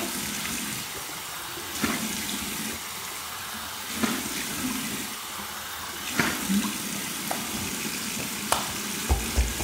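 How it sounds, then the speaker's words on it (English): Cold water splashed onto the face as a post-shave rinse at a bathroom sink, a steady wet hiss of running tap water broken by several sharp splashing bursts, close and fairly loud with no talking. "here's my cold water rinse to close my pores"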